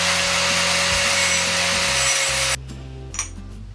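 A metal tube for a motorized scooter being cut with a loud, steady power-tool whine that stops abruptly, leaving a quiet clink and a brief clatter afterward; nobody speaks.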